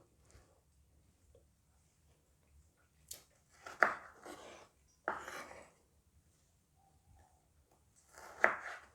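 A knife cuts frozen bilimbi (belimbing wuluh) fruit into pieces, producing a few separate, crisp chopping knocks spaced by quiet pauses, close and fairly soft.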